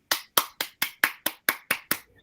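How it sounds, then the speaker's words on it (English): Nine evenly spaced hand claps ring out sharply and close, a sparse, rhythmic welcome for a professor about to lecture on Yi Jing and medicine in a philosophy-of-medicine talk. "Let's welcome Professor Masami Tateno with applause"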